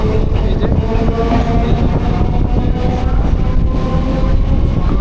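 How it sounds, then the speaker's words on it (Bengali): Steady rumble and rattle of a moving Dhaka-to-Kolkata passenger train, heard from inside with a continuous low roar and faint clatter, no voices. "আমাদের ট্রেন অলরেডি ছেড়ে দিছে"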